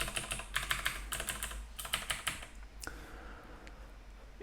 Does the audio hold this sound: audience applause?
no